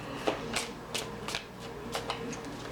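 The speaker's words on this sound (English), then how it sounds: "Just horrible at shuffling." Tarot cards being shuffled by hand in a quiet room, a series of sharp riffling bursts spaced out irregularly, close and fairly soft.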